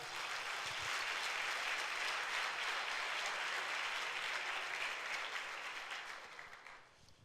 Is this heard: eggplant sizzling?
no